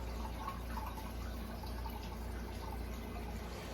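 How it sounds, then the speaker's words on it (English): Water running through a tube from a bathroom sink into an aquarium tank, a steady, low trickling and dripping flow that continues evenly throughout without any talk. "So I just started to fill my tank with the water."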